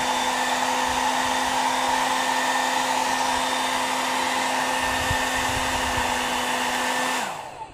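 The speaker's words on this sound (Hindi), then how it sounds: "फिर हेयर ड्रायर देखिए दोस्तों, बहुत ही तरीके से ये वर्क कर रहा है" A household hair dryer hooked up to a home electrical switchboard runs steadily with a loud, even whir and a constant motor hum, then switches off near the end and winds down quickly into silence.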